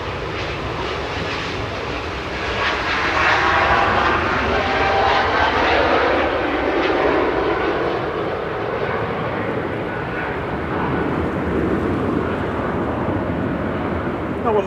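An Air France airliner climbs out on departure from Manchester Airport, its jet engines roaring loud and steady for the whole stretch, swelling slightly then easing as it moves away in a windy open-air setting.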